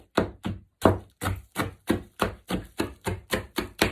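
Terrazzo chips are bashed to break up oversized pieces, producing about a dozen sharp, evenly spaced blows in a steady rhythm, each with a quick decay.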